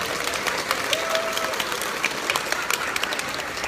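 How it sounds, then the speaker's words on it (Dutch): Audience of children and adults applauding the director of the Limburgs Museum at a book-launch event, brisk crowded clapping with a few faint cheers and murmurs, lasting a few seconds. "En nog één applaus voor de directeur van het Limburgs Museum"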